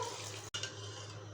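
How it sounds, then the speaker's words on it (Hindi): Water being added to a pot of mutton curry, a continuous pouring and splashing that fills the short moment at steady level, broken by one sharp cut midway, with no talk. "हम लोग अब इसमें पानी ऐड कर देते हैं।"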